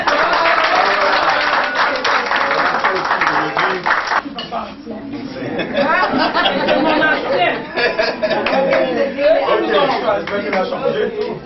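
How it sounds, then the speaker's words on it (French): Audience applause at a French-speaking gathering, a dense burst of clapping for about four seconds that fades into room chatter and a voice talking. "Là, voilà, applaudissez pour elle."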